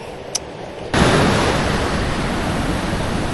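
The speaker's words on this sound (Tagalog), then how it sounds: "malakas din ang alon" Strong waves breaking on a rocky island shore, a sudden roaring wash of surf that surges in after a brief quieter moment and stays loud and close to the end.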